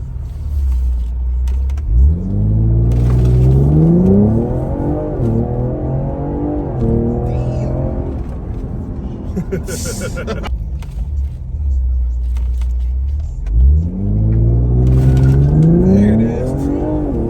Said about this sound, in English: There's cars coming.